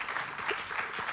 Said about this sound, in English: you should clap for the judges